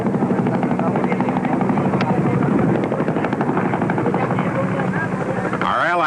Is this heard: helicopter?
yes